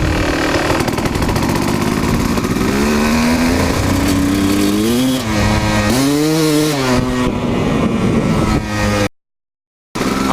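A Kawasaki KX dirt bike engine runs loud and close with a sticking clutch, a steady buzzing drone that rises and falls as it is revved, cutting out briefly near the end before resuming.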